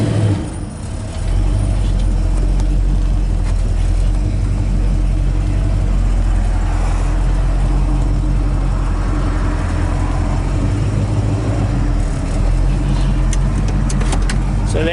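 A 1966 Chevrolet Chevelle SS 396 convertible backs up in reverse, its engine a steady close low rumble running continuously with some road and mechanical noise over it.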